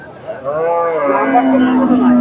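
A dairy cow at a cattle market lets out one long, drawn-out moo close by, its voice rising and sliding, with someone briefly speaking in the background.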